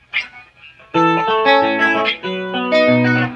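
Guitar part of a song playing with the full band, bass, drums and other instruments entering after a brief opening guitar phrase, loud and steady with dense layered chords and no talking.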